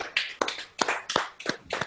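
A small group claps in a handful of uneven bursts about every third of a second, close and fairly faint, with no talking.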